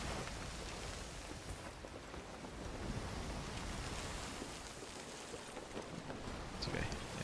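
Ocean waves wash and surge steadily in the Sea of Thieves game, a dense continuous roar of surf with wind over the water, loud and unbroken throughout.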